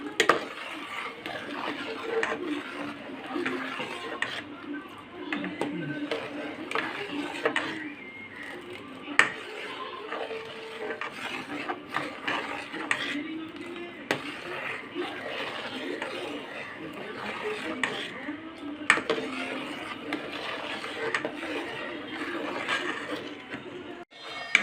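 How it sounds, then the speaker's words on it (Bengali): A spoon scrapes and knocks steadily against a pot while sabudana kheer, a sago pudding, is stirred, with soft irregular clinks and scrapes repeating over a long stretch and some faint background noise. "এখন আমি 15 থেকে 20 মিনিট নাড়াচাড়া করব।"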